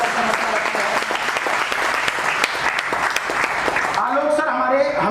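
An audience claps together in a loud, sustained burst that fills the room for about four seconds, then stops abruptly, leaving a voice speaking alone.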